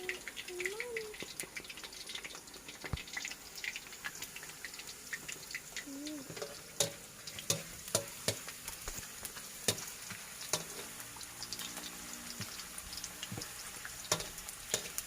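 Banana chips deep frying in oil, a continuous bubbling sizzle broken by sharp clicks and knocks of stirring and utensils, with faint background voices.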